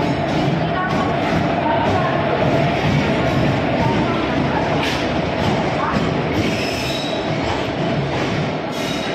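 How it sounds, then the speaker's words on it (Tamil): Sendur Express pulling into platform 1 at Tirunelveli station, a steady dense rumble of the train with wheel and rail noise filling the whole stretch, with faint platform voices and a brief squeal. "சென்னை போகிற செந்தூர் எக்ஸ்பிரஸ் வந்து பிளாட்ஃபார்ம் நம்பர் 1 வந்துட்டு"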